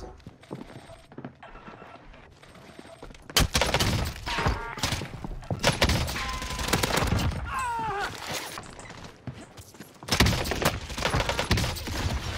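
Rapid automatic AK-74u submachine gun fire in Call of Duty Warzone on Rebirth Island, loud close bursts with clattering impacts and overlapping shots from about three seconds onward, after a quieter start.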